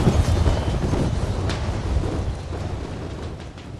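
Musket volley from an infantry brigade in Napoleon: Total War during a Gettysburg Culp's Hill battle, a dense rumbling crackle of massed gunfire rolling continuously and loud from start to finish.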